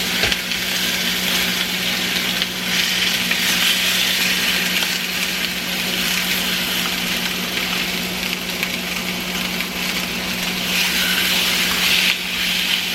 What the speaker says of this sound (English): so we're just going to sear these naked